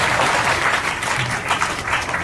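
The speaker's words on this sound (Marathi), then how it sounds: "त्या आई बापाबद्दल एक वेळा टाळ्या वाजवा सर्व" Audience claps at a Marathi kirtan program, a dense, continuous burst of applause from a crowd, moderately loud and steady across the short stretch.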